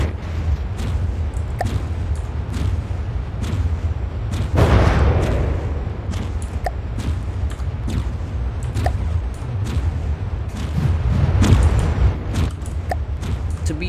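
Rapid gunship guns fire in a weapon test in From the Depths, a dense stream of sharp shots and booms over a constant low mechanical rumble, with a heavier blast partway through.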